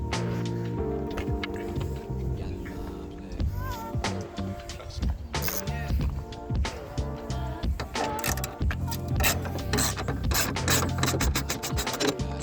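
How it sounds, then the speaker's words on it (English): A ratchet wrench backs an 8 mm bolt out of the hood prop bracket on a 2021 Ford Explorer ST, with repeated close clicking and mechanical ratcheting over a continuous low hum. "I'm just going to take this bolt out, and this bracket is gonna come out"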